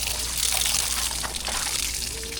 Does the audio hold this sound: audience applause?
no